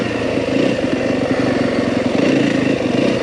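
A WR 250F dirt bike rides single track at Kelly Canyon near Flagstaff, its engine a loud, steady drone with rapid throttle pulses and slight revving surges throughout.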